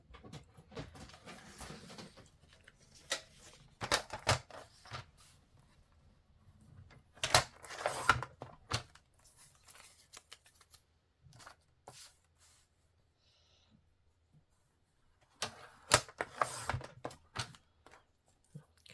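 Scissors snip through paper while scraps are trimmed for a DIY folder made from recycled materials, giving a handful of short, crisp cuts in loose clusters with quiet gaps between them, close and fairly soft.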